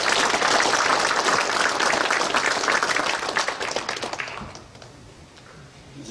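Applause fills a church retirement and ordination ceremony, with a congregation clapping loudly and steadily for about four seconds before it thins out and fades away.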